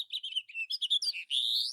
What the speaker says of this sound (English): Apparently there's a house finch nearby